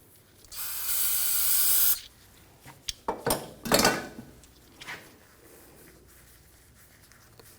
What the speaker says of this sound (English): I just take some brake parts cleaner, just spray down the caliper pins,